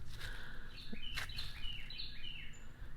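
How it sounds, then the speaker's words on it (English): Several small birds chirp and tweet outdoors in Pecan Plantation, Granbury, Texas, in short bright bursts over a steady low rumble of ambient noise, with no one talking. "You can hear those birds now"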